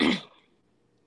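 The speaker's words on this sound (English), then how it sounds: "I was just clearing my throat" A single harsh throat clearing sounds close and fairly loud for a moment, then fades into near silence.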